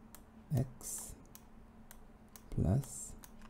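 Typing on a computer keyboard while entering an equation in PowerPoint, faint separate clicks and taps scattered across the moment, with brief voice-like sounds in between.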